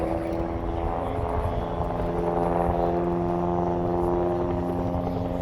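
Propeller aerobatic plane pulling into a hammerhead at an air show, its engine a droning tonal hum holding steady and fairly loud, with a voice talking over it.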